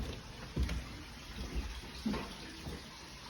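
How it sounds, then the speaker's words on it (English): Water running through household plumbing tapers off and stops, a soft rushing flow with a few faint knocks and drips, heard at a distance with no talking. "you can hear the water actually is petering off"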